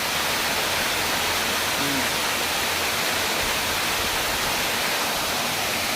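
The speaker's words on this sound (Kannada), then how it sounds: "ಬಂಡೆ ಮೇಲೆ ಬೀಳೋದ್ರಿಂದ ಅಷ್ಟು ಗಲಾಟೆ" Water pouring onto rock at Siddharamappa Kola near Srisailam makes a dense, constant roaring hiss that fills the whole stretch, with only a faint trace of voice briefly under it.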